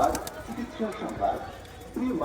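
Malobahi pigeons and their young coo softly close by in short low calls, mixed with rustling, for a brief moment.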